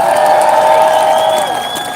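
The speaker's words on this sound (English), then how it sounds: "Let's cheer for that!" Audience cheering and applauding at a gathering, a bright, sustained wash of voices and claps that holds steady and then tapers slightly near the end, fairly loud and without separate talk.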